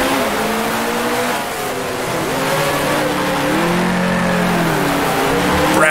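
A 1966-era Formula One race car engine in Grand Prix Legends, at the German Grand Prix, drops down into first gear without braking. It gives a loud, continuous snarl whose pitch steps and slides as the revs change, with a hint of tire squeal.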